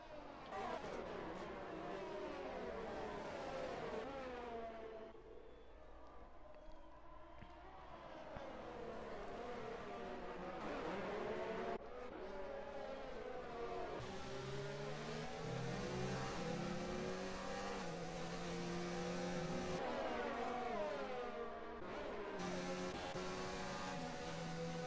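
Race cars in the F1 game accelerate through gears at Belgium, with continuous engine whine rising and falling as several cars pass close, under steady commentary.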